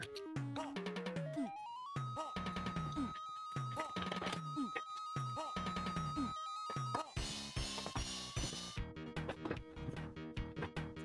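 A mobile phone ringtone plays in a workshop as a repeating melodic sequence of clear electronic tones, fairly loud, with a brief clattering burst and busier sound toward the end.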